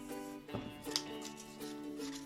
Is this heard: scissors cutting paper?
yes